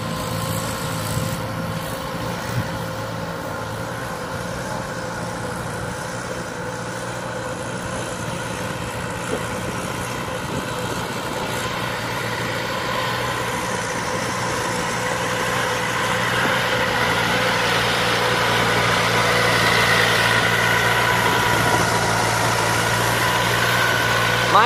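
A DC70 cutting machine engine idles with a steady hum and a low drone, close and continuous, slowly growing a little louder toward the end.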